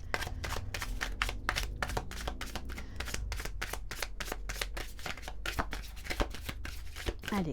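Oracle cards being shuffled close up, a rapid steady run of crisp flicking riffles and taps that continues throughout at moderate loudness.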